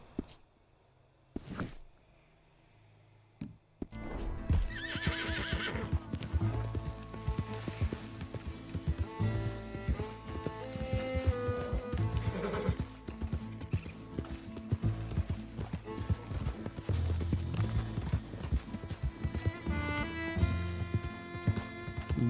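A horse gallops in Red Dead Redemption II, a dense rapid run of hoofbeats with rattling tack that starts after a few seconds of near quiet and keeps up steadily, loud and close.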